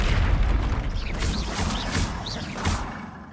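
Confringo spell blasts in the video game Hogwarts Legacy during a troll fight, a series of deep, rumbling booms with whooshing bursts repeating about every half second, loud and close.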